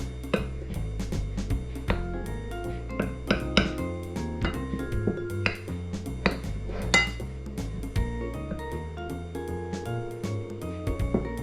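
Utensil scraping and clinking in a bowl as cocoa powder is mixed into brownie batter, a steady run of close, busy knocks and taps with louder clinks scattered throughout, over a low background hum.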